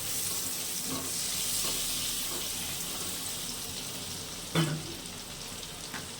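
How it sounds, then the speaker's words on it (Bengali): Chopped garlic fries gently in butter and a little oil for a white chicken pasta sauce, giving a soft, steady sizzle with a few stirring clatters, heard close and without speech. "বেশি ভাজা হবে না হালকাই ভাজতে হবে"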